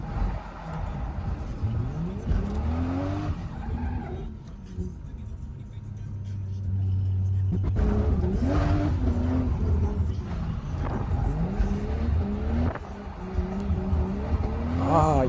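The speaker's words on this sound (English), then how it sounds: "In the rain, perfect weather for drifting, bro." A Lexus SC300 drifts on a wet road in the rain, its engine revving up and down in rising and falling sweeps, with intermittent tire noise, as people talk over it inside the car.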